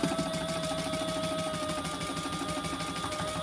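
Sewing machine stitches a laptop case seam at a 3/8 inch allowance, a steady rapid mechanical whir with a fast even rhythm running throughout, close and moderately loud, no talk.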